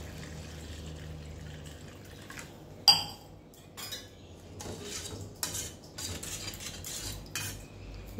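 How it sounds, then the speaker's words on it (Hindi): A metal spoon scrapes and clinks against a pot of dal with salt, turmeric and water in irregular strokes, with a sharp clank near the start and soft liquid sloshing. "इसे मिक्स कर देंगे"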